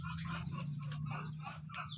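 Chickens clucking softly and steadily around newly hatched chicks, a low continuous murmur of hen sounds close by with no talk over it.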